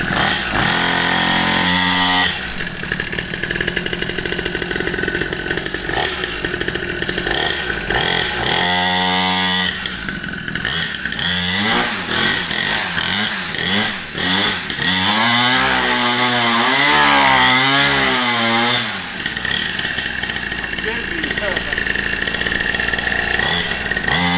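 A small two-stroke pit bike engine runs loudly throughout, buzzing high and raspy like a chainsaw, revving up and down in several bursts before settling back to a steady drone.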